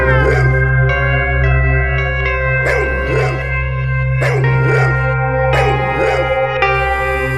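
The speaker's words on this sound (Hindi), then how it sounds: "यार ये कुत्ता कितना इरिटेटिंग है।" A dog barks in short sharp bursts that repeat over a steady, loud background of music or tonal drone.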